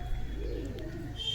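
A female pigeon of the green piling or jira type gives a soft low coo close by, one rolling warble with a faint chirp near the end and no talk.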